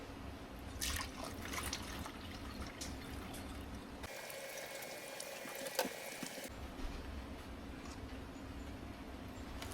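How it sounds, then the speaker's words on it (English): Quiet, steady trickle of a homemade dog ear cleanser being poured into a bottle, with faint dripping and a brief change in tone partway through. "We're going to go ahead and pour that inside of the bottle."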